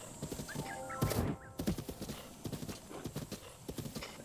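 Horse hooves clip-clopping in The Legend of Zelda: Breath of the Wild, an irregular trotting rhythm of close, crisp hoofbeats with a brief whinny and bird chirps in the background.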